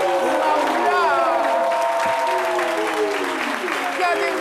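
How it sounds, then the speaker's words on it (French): A standing audience applauds Kané Mahoula, sustained dense clapping close and loud for the whole stretch, with cheers and voices rising over it. "tout le public de se lever pour applaudir Kane Maoula"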